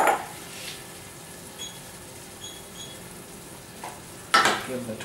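A spoon stirs canned pulled tomato sauce in a frying pan while it cooks for Italian meatballs. Soft scraping and sizzling sit under quiet background noise, with a louder clatter of the utensil against the pan near the end.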